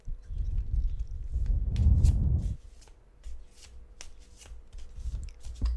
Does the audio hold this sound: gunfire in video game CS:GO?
no